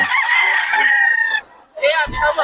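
A Sweater-bloodline gamecock at a market in Bocaue crows loudly and close by, one long drawn-out call, then a short pause, then the start of another crow with a thump.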